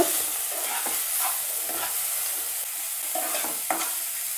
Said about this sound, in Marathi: आलं लसूण पेस्ट हे सर्व एकत्र घालून आता आपण व्यवस्थित जे आहे त्याचं परतून घेणार